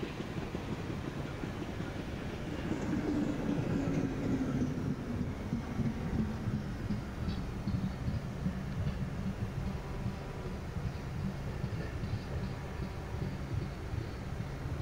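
A Duronto Express train runs in the MSTS train simulator during a parallel run beside another train: a low, steady rumble of rolling stock with a faint whine rising and fading, and no talk.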